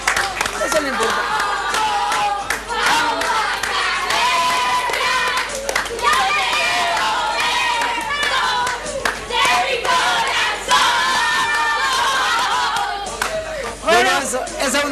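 A crowd at a Blooming academy event applauds and cheers continuously, dense clapping mixed with shouts and chatter, including children's voices, loud and sustained throughout.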